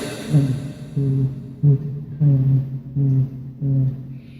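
A voice imitates muffled underwater hearing with a series of low, dull, droning hums, each short burst separated by brief pauses.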